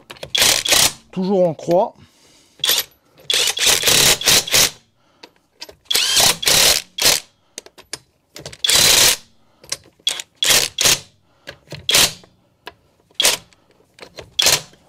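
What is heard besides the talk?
Onevan impact wrench screwing nuts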